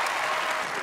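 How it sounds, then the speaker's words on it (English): Loud audience applause at a televised talent show, a full, continuous roar of clapping from a large crowd with no gaps. "Round of applause for Heidi"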